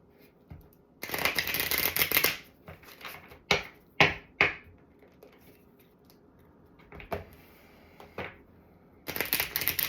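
Tarot cards being shuffled up close: two long riffling bursts at the start and end, with scattered crisp card taps and flicks between them, no talking.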